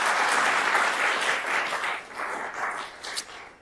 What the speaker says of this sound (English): So Courtney and Mo, can we give them one more round of applause, please?